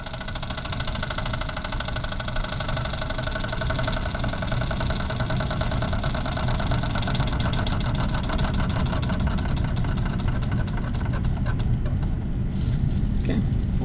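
A small model steam engine in a lab setting runs at a steady rapid chugging rhythm, loud and close, continuing without pause for the whole stretch.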